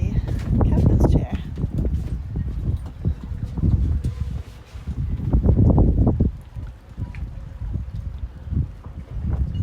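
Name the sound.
wind blowing outside on a boat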